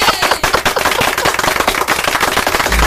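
Rapid bursts of gunfire sound effect played on a Manila FM radio station broadcast, loud and continuous machine-gun style volleys with no talk over them.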